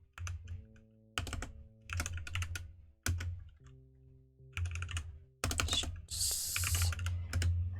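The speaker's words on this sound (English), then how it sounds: "Using this keyboard is hard." Typing on a computer keyboard, close and clear, coming in quick bursts of clacking keystrokes separated by short pauses, alone with no voices.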